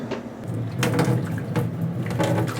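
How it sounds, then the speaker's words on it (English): Hot boiling water poured out of a cooking pot of corn cobs into a sink, a steady splashing rush with a few clunks of the pot, close and fairly loud throughout. "Next we want to pour out that hot boiling water"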